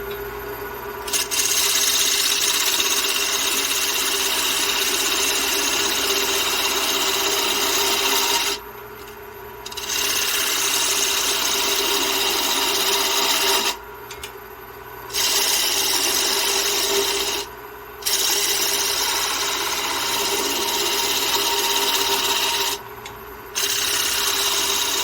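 A gouge cuts soft wood spinning on a woodturning lathe for a hummingbird house, a steady loud rasping scrape that runs continuously and breaks off in several brief pauses.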